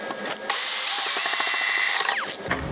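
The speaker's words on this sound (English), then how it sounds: "Now I'm going to drill a 1/2-inch hole 5 inches up from the bottom" Power drill boring a half-inch hole through the side of a plastic bucket: a loud, steady high whine for about a second and a half that spins up sharply and then winds down.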